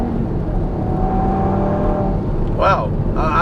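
Sustained engine roar from a 540 HP Audi TT RS tuned by 034 Motorsport accelerating, loud and steady inside the car, with someone talking briefly toward the end.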